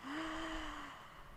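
A child or adult in a family yoga class gives a drawn-out, noisy exhale with a vocal gasp-like tone, loud and close, lasting about a second alone.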